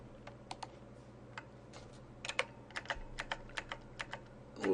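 Computer keyboard keys are pressed in a quiet room, with about a dozen irregular, crisp clicks, some in quick pairs, close and clear and with no talking.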